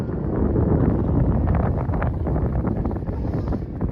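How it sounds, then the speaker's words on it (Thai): Strong wind buffets the microphone at a reservoir dam near Chiang Mai, a loud continuous roaring rumble that never lets up. "โอ้ยลมแรงสุด"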